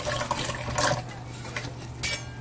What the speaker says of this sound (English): Then it's all about the hand tossing. Mix it up with your hands.